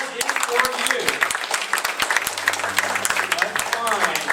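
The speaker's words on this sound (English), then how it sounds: "All this applause is for you." Audience applause at a 90th birthday party: a steady mass of clapping hands, dense and sustained throughout, with voices mixed in beneath.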